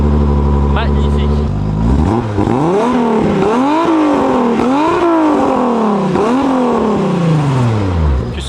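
A 1200 hp Audi S3 turbo engine revs hard in a series of loud, rising and falling sweeps, close and dominant, with repeated throttle blips.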